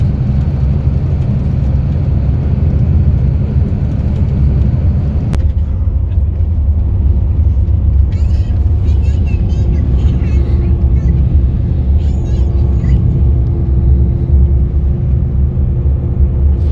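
A Grey Line tour bus engine on Iceland's south coast rumbles steadily and loudly throughout as a low continuous drone, with faint voices in the cabin.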